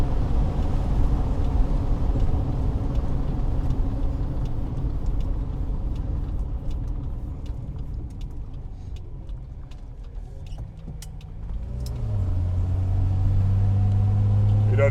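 A revived barn-find Mercedes W108 drives along Sardinia Bay Road with a steady engine and road rumble from inside the car, and the engine note changes near the end.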